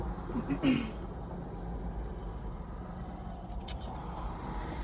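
Highway traffic rushing past a car parked on the roadside, a steady broad rumble and hiss of passing vehicles with a brief louder swell near the start.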